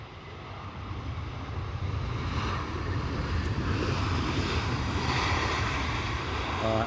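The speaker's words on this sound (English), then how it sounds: "So we'll land this plane." A fixed-wing airplane landing at Edinburgh Airport, a steady broad engine roar with wind noise holding at constant loudness throughout, fairly distant and unbroken, with no talking.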